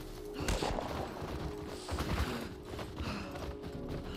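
Galloping horse hooves in The Last of Us Part 1 video game, a busy clatter of hoofbeats mixed with game noise, distant gunfire-like bursts and a steady tonal hum, with no talk over it.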